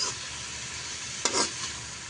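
A pan of ampalaya (bitter gourd) with egg sizzles steadily while a spoon or spatula stirs it, with a brief louder scrape and clatter partway through.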